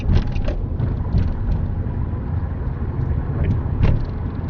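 A learner car pulls out into the road at a crossroads while turning right, its engine giving a steady close rumble with light road noise and no voices.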